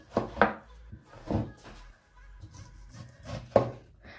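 Knife cutting through a pineapple in a few separate slices, each a quiet, crunchy, fibrous cut with soft pauses between the strokes.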